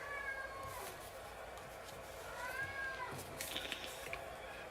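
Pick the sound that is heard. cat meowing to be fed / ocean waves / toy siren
cat meowing to be fed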